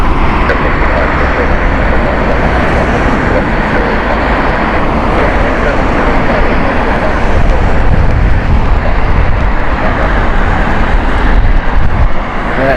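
A Virgin Boeing 787 takes off at Heathrow Airport, its engines a loud, steady broadband roar close by that swells slightly toward the end, with wind buffeting the microphone.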